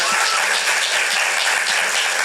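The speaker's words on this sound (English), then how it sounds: "Simon Robertson, let's give a round of applause." Audience applause at a young playwrights' festival cold reading in a theater, a steady wash of many hands clapping together, fairly loud and sustained throughout with no voices.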